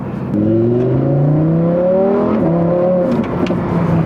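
A Lamborghini Sterrato's engine revs up loudly and close by, its harmonics sweeping upward in a sustained, powerful acceleration that eases briefly before building again.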